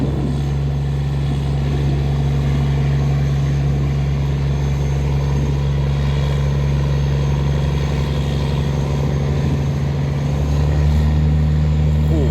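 A heavy tugboat engine drones steadily at low pitch throughout, a constant deep rumble with a faint hum on top and some background noise.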